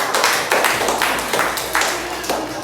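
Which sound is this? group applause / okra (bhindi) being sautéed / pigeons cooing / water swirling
group applause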